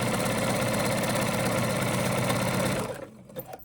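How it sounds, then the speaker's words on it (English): A sewing machine stitches swimsuit fabric with elastic in a loud, steady, fast whirring run close by, then stops abruptly near the end, leaving a few small mechanical clicks. "and I'm gonna sew the rest."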